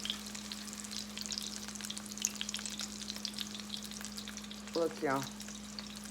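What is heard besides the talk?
crawfish corn fritters frying in oil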